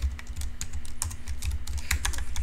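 Quick, crisp clicks from a computer keyboard being typed on, in a close and fairly steady rapid run with no voices.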